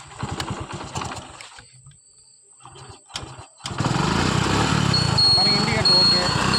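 Someone talks briefly before a TVS XL 100 moped's self-starter cranks and the small engine catches, settling into a steady close idle that continues to the end.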